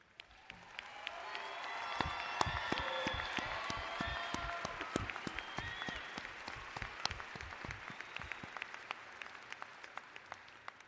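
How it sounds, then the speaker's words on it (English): A commencement audience claps for standing military veterans, the applause swelling over the first seconds, holding full and crowded, then thinning to scattered individual claps near the end. "let's give another round of applause"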